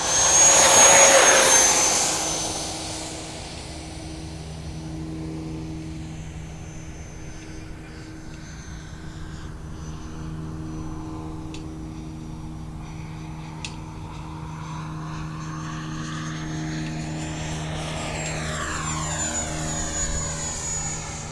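H-King Flycat V2 70mm electric ducted fan model jet with a 1042mm wingspan, heard on its takeoff roll: a loud opening rush of fan noise settles into a steady high whine, then the pitch climbs again toward the end, with no talking.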